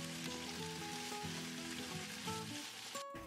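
Tofu and shishito peppers stir-frying with rice wine in a pan, a steady close sizzle with scraping stirs throughout and a sudden brief burst near the end.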